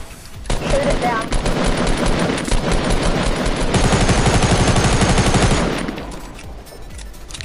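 Heavy automatic gunfire in a Fortnite Battle Royale squad match, loud rapid bursts running almost unbroken for several seconds before tapering off, with players talking over the shooting.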